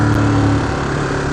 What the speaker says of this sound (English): I didn't like catch third gear, so it just kind of revved me up.